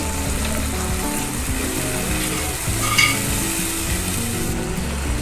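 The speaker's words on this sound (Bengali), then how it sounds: "পোস্ত বাটা আর ধনেপাতা কুচি। এবার একসঙ্গে সব উপকরণগুলো মিশিয়ে নেব।" Tilapia fish curry ingredients with poppy seed paste, tomato paste and chopped coriander being mixed in a hot pan, a steady frying sizzle under stirring and scraping, with one brief sharper clink.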